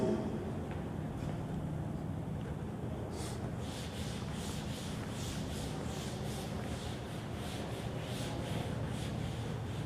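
Someone wipes chalk or marker writing off a classroom board, giving a soft, continuous scrubbing rub with repeated strokes, heard close and alone without speech.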